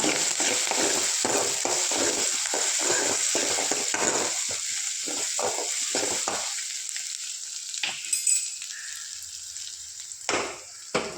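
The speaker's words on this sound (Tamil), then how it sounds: "இப்போ ஆனியும் நல்லா வணக்கி விட்டுக்கோங்க" Onions fry in a pan with a constant sizzling hiss, broken by repeated scraping stirs that grow sparser toward the end.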